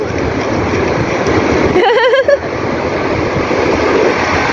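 Sea waves wash steadily onto Cox's Bazar beach at night, a dense broadband rush with no clear breaks, close and fairly loud, with a brief disturbance midway.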